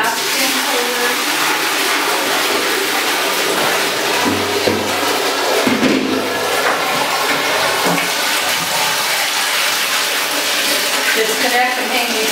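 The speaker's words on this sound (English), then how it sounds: "And I'm ready to drain the acid sanitizer." Acid sanitizer draining from a milking parlor cleaning system, a loud, steady gushing rush of liquid through pipes and into a drain that continues unbroken throughout, close by.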